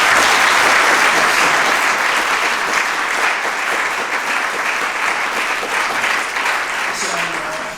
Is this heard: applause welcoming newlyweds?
yes